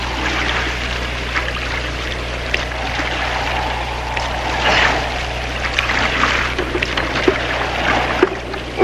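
Paddling a raft at sea: soft splashing strokes and trickling water over a constant low hum, with no talk.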